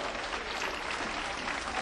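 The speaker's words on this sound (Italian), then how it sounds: "Un grande applauso a tutti coloro che hanno offerto questi fiori a Pasquale De Lucia." A crowd at an outdoor election campaign rally applauds, a dense, steady wash of clapping that stays loud and even throughout.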